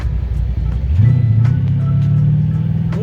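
A donk-style El Camino on gold rims accelerates hard, its engine rising from a low idle rumble into a loud, sustained revving roar close by, with a whining pitch climbing through the throttle.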